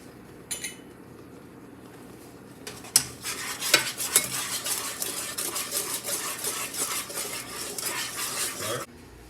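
A spoon stirs and scrapes around a cooking pot of boiling sauce for BBQ goat with sugar and pepper, clinking steadily and busily for several seconds after a quieter start.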